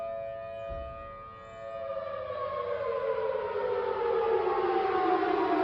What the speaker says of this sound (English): Sirens, guys. Sirens. Tornado sirens.